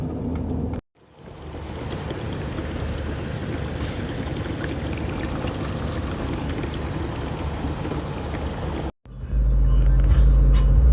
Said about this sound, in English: I'm driving the car right now.